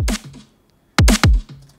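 A programmed electronic kick drum in Bitwig Studio thumps three times, deep and punchy with a quick decay: one hit, a pause, then two close together, alone without talk.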